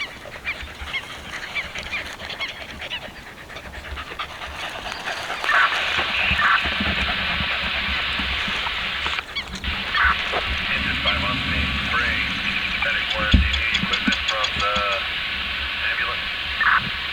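Honking, goose-like birds call at a pond at W.S. Huey, with repeated bursts over a steady outdoor background. They grow louder partway through, and someone talks intermittently over them.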